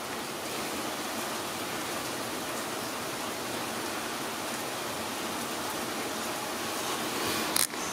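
Steady heavy rain from a thunderstorm pours down in an even, dense hiss, close and continuous, with a brief knock near the end.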